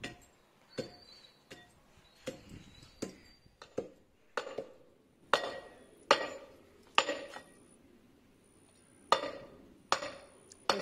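Lahori rock salt is pounded by hand in a village kitchen, a series of sharp irregular thuds and knocks, close and distinct, spaced about a second apart with quiet gaps between.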